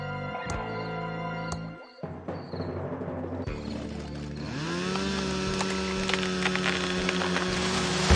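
An old, abandoned, fully fuelled chainsaw cutting through a fallen tree that blocks an entrance in the Thimbleweed Park adventure game. It sputters to life, then settles into a loud, steady, buzzing engine drone that holds to the end.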